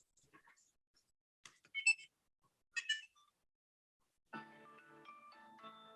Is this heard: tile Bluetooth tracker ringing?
yes